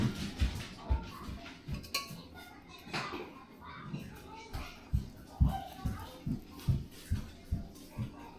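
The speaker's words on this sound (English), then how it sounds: "what you want to do is just scrape any of those impurities off of here" A utensil scrapes impurities off rendered beef tallow in a pan with repeated short, rhythmic strokes and knocks, fairly close, with faint voices in the background.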